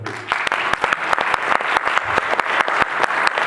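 An audience at a Beatles fan festival in Zaporizhzhia claps continuously, with sharp dense hand claps and a few louder individual claps standing out close by throughout.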